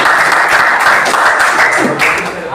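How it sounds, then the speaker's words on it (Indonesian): A classroom audience applauds a student group, dense steady clapping from many hands filling the room, fairly loud and continuous, tapering slightly near the end. "Kita beri aplaus kepada kelompok 2"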